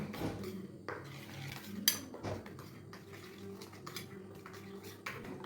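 Utensil scraping and clinking against a pan while stirring Italian spinach sauce, irregular knocks with one sharp metallic clatter, close and fairly quiet with no talk.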